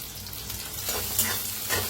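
Green chillies and sago roast in hot oil in a kadhai, a dense close sizzle with scraping stirring strokes throughout.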